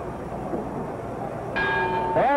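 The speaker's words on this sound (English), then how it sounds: "The bell" A boxing ring bell clangs twice in close succession to end round seven of the Sugar Ray Robinson versus Gene Fullmer fight, ringing out loud over steady arena crowd noise.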